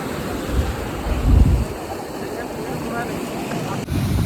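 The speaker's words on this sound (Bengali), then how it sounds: "দেখতে পাচ্ছ রাস্তার উপর দিয়ে অনেকটা এরিয়া ধরে জলটা যাচ্ছে, প্রচুর বৃষ্টি হয়েছে" Floodwater after heavy rain pours across the Keshiari–Kharagpur state road at Lengamara bridge, a steady broad rush with a louder surge in the middle, heard outdoors alongside wind.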